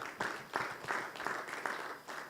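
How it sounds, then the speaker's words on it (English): Conference audience applause welcoming a speaker to the podium, heard as regular bursts of clapping that pulse about three times a second at moderate distance, steady throughout. "Please put your hands together as we welcome Dr. Kinyanjui to the podium."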